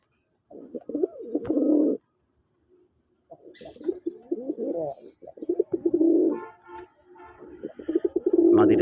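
A high-quality pair of Raj Golla pigeons, male and female, coo up close in repeated throaty bursts with short pauses between, with no talking.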